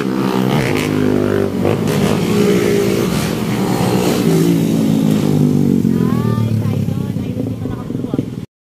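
A motorcycle engine revs loudly and continuously at close range, rising and falling in pitch over several seconds, with a voice faintly audible under the engine noise.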